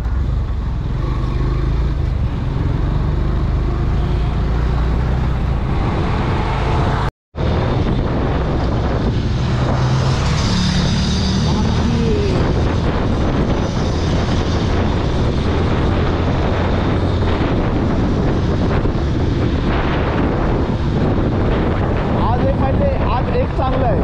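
Wind roars against the microphone while riding a motorbike past salt pans on a hot, breezy day, a loud, continuous buffeting rumble broken by one brief dropout.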